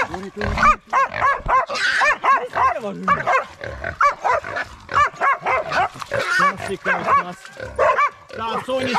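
Hunting dogs bay and yelp nonstop during a driven hunt, with dense overlapping high-pitched barks coming in rapid, uneven bursts, loud and close.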